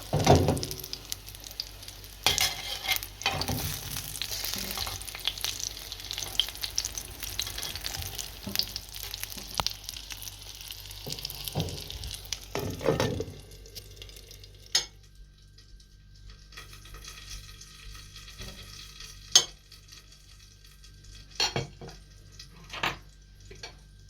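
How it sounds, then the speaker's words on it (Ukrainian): Cottage cheese pancakes sizzle and crackle steadily in a hot pan, with occasional clinks of a utensil against the pan; the frying quiets somewhat partway through. "Смажу сырнички."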